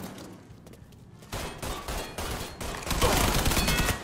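Gunfire in the video game Mafia 3 builds from sparse shots into dense, continuous bursts of rapid fire that grow louder and fill the end of the clip, with no speech.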